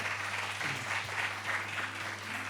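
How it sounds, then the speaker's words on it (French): A crowd applauds steadily at an evening stage show, the clapping swelling in soft rhythmic waves, heard faint and at a distance. "On l'applaudit encore une fois."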